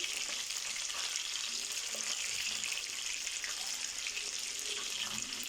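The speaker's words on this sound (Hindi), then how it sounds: "देखिए दरमियानी आंच पर कबाब हमारे फ्राई हो रहे।" Chapli kababs frying in a pan over medium heat, a dense, hissing sizzle that stays steady and close for the whole stretch with no speech.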